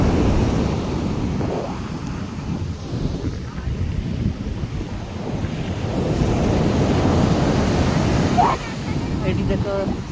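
Sea waves wash up onto the shore on a morning beach, a steady rolling surf with heavy wind buffeting the microphone. Some voices murmur faintly in the mix.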